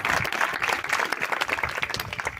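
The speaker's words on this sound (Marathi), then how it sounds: "इथे मला असं वाटते की सर्वांनी खूप जोरात मुलांसाठी टाळ्या वाजवायला हवा" An audience applauds students after their Independence Day celebration performances at a learning center. Dense, steady clapping from many hands fills the full stretch, close and lively, with no talk over it.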